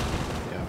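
A shotgun firing in Arma 3 on a winter map, a short loud burst of gunfire with a dense, booming low end that rings out and fades within a second.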